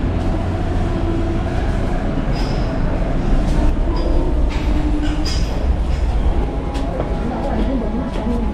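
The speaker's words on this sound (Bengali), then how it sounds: "তো তোমার ঢুকে পড়লাম দুর্গাপুর রেলওয়ে স্টেশনের প্ল্যাটফর্ম নাম্বার 4-এ" Platform 4 of Durgapur railway station: a dense, continuous rumble of trains and crowd, with scattered clanks, faint whistles and a murmur of voices.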